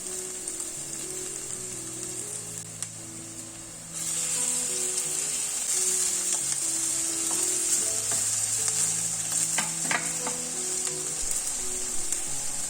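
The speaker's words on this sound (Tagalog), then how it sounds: "Mix to combine and wait for the tomatoes to become soft for about 30 seconds." Tomatoes, onion and garlic sizzle steadily in a hot pan, a continuous frying hiss with scraping stir strokes, close and alone while soft music plays underneath.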